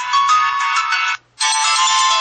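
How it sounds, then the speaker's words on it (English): The ringtone preview on an HTC HD2 phone plays loud and close, a bright electronic melody that stops for a brief gap and then starts again. "change the ringer to perhaps another sound, and you'll get a little preview."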